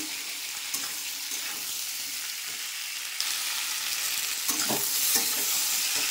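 Fried vegetables for Bengali shukto go into a hot pan and are stirred, a continuous sizzle with scraping stir strokes and a louder burst as more goes in midway.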